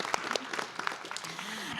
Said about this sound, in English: Let's clap it up for Dr.